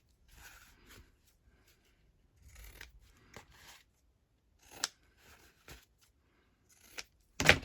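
Scissors snip paper in short, separate cuts spaced a second or two apart in a quiet room, with one sharp, louder snip at the end.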